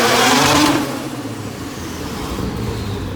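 A Mazda RX-7 FC pulls away on a rainy day, the engine loud and close at first with a rising rush, then falling back to a steadier, softer drone as it drives off.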